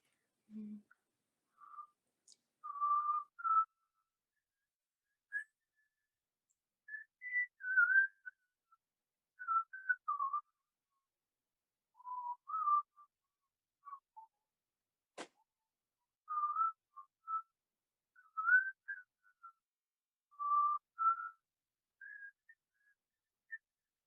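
Someone whistles a slow, halting melody alone during an Indian classical music competition, with short tonal phrases separated by pauses and one sharp click midway.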